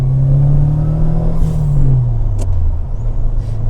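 A turbocharged engine in a Fiat Uno Turbo or Punto GT rumbles loudly and steadily with a low droning tone that rises and shifts as it accelerates and the turbo comes on, plus a brief hiss partway through.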